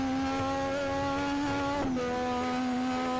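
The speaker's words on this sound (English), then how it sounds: "Just throttle blipping." Car engine in a racing video game, likely Assetto Corsa or BeamNG, blipping its throttle: a steady harmonic engine tone that briefly dips and rises in pitch near the middle, fairly loud, with no voices.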